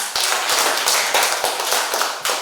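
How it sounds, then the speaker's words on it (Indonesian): A classroom of students clapping for a classmate, with distinct hand claps falling in a loose, repeated rhythm at close range. "tepuk tangan untuk Irma"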